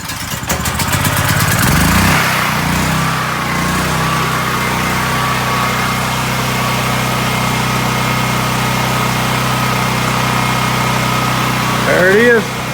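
Predator 9000-watt generator cranking on its electric starter, catching and settling into a loud, steady idle drone close by, with a short burst of speech near the end.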